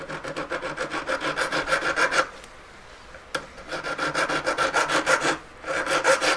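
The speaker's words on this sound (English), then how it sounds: "I'm gonna gently file the sides because now it's got the casting finish plus hammer marks" A file rasps along the sides of a small cast metal piece in rapid, even strokes, close and clear, with a couple of brief pauses between bursts of filing.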